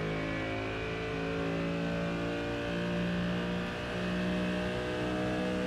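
A race car engine in the iRacing simulator revs hard and holds high revs, a loud sustained whine that swells slightly and dips briefly before climbing again, with no one talking.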